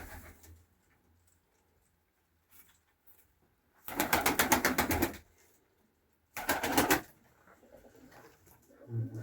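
Pigeons on a freezing minus-fifteen morning, two bursts of close, rapid pulsing sound amid near silence, with faint low murmurs at the edges.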